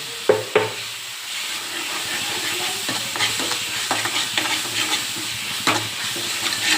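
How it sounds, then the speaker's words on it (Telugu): Ginger paste sizzles and fries in a hot pan with steady crackling, broken by a few sharp stirring scrapes and clinks close by, with no voices. "ఇప్పుడు అల్లం పేస్ట్ వేస్తున్నాను"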